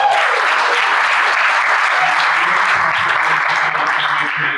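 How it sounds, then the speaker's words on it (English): Sustained applause from a crowd, steady and loud throughout, clapping dense and continuous before tapering at the very end. "Let's just give him another round of applause"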